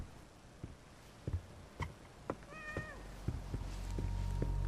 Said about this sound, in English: Black cat.